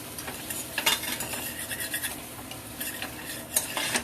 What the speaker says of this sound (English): I'm cooking the onion in there.